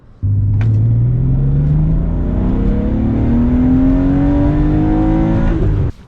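A BMW M3 with a cold air intake revs hard, its engine note climbing steadily in pitch over several seconds, loud and close, then cutting off abruptly.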